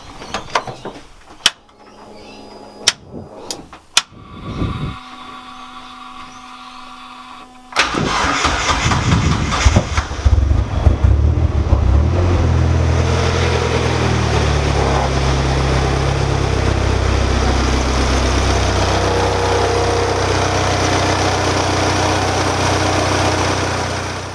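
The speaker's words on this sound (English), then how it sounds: "Will the car start?" A Mazda Miata turbo track car, run on a lightweight battery, cranks through a few clicks and short attempts, then fires up with a sudden loud roar and settles into a steady, rumbling idle close by.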